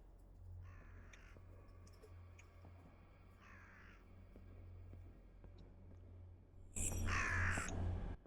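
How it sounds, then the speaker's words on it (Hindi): Crow caws ring out in a horror video game set at Bhangarh, several harsh calls spaced apart over a low ambient drone, with a louder, closer burst of cawing near the end. "कौआ डरा रहा है यार मेरे को"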